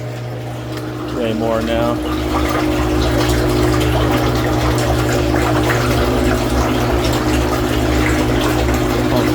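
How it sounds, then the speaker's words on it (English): Sugar syrup sloshing and churning in a roughly 40-gallon mixer tank, with a steady pump or motor hum underneath the whole time. Someone talks briefly over the liquid noise. "Hear it sloshing around"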